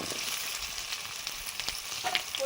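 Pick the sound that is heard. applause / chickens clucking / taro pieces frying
taro pieces frying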